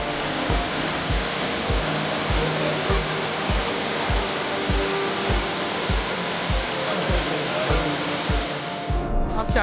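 Bhalugaad Waterfall in the Uttarakhand wilderness pours with a loud, constant roar of falling water that fills the whole scene. Regular low thumps pulse underneath the roar.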